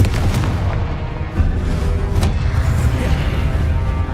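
A fiery Confringo blast spell in the Hogwarts Legacy video game, heard as a loud, dense rumbling explosion amid continuous booming combat noise, with sharp cracks near the start and around the two-second mark.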